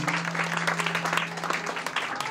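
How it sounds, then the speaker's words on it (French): A graduation ceremony audience at a beauty institute claps for a graduate, with steady, moderately loud applause over a low sustained hum. "que je vous demande, mesdames, messieurs, d'applaudir"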